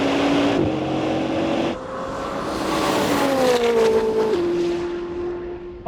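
A Bugatti Divo and a Koenigsegg Jesko roar hard off the line in a drag race, loud rising engine notes climbing through gear shifts with steady pitch steps, close and continuous with no talk.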